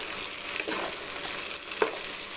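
Onions and tomatoes sauté in a pan for chicken chilli gravy, giving a steady close sizzle with a couple of soft stirring scrapes and no talk.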